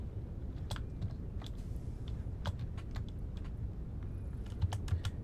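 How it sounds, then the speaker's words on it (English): Clinky computer keyboard typed on during a Satisfactory gaming session: quick, irregular sharp key taps scattered over a low steady background hum, fairly quiet, with no talking. "I have a clinky keyboard now, so you guys are going to have to listen"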